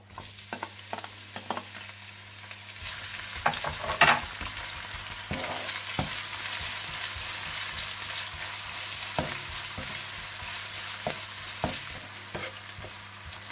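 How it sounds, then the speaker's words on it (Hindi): Steady sizzling of onions frying in hot oil, with occasional clinks and stirring scrapes from a utensil throughout, no talking. "तो आप इसमें प्याज डालकर इन्हें भी आप थोड़ा सा भून लें।"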